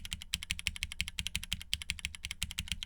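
Keys clatter in a steady, fast run of crisp clicks on a Semo TKL mechanical keyboard, each stroke close and distinct, with a slight hollow resonance and no talking.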